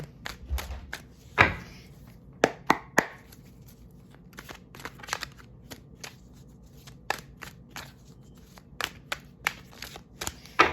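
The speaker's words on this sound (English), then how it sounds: "I feel like I need to keep shuffling" Cards being shuffled close by in repeated riffles and taps, with brief bursts and pauses throughout.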